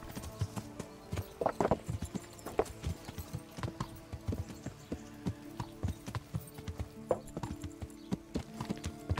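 Horse hooves clip-clop on a road in the medieval video game Kingdom Come Deliverance, a steady uneven trot of many soft, fairly distant hoofbeats over low background ambience, with no talk.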